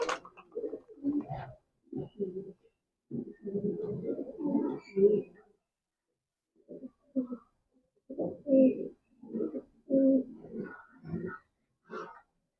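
A pair of fieldback pigeons in a loft coos in soft, low bursts, with several throaty phrases separated by short pauses and heard close up.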